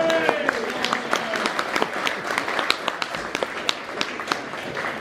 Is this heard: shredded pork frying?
no